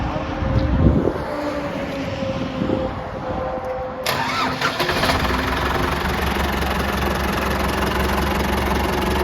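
An engine cranks and fires up, then settles into a steady, loud, close idle hum with a low continuous drone, preceded by some outdoor rustling and background noise.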